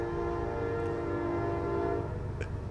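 Long, loud sustained horn blast from a train passing nearby, a steady droning tone over low rumbling rail noise.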